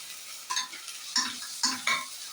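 Mint, coriander and green chilli paste stirred in a pan for biryani, with a few bursts of scraping and sizzling at close range, no talking.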